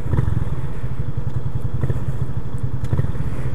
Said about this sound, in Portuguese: Aí, vou dar uma acelerada,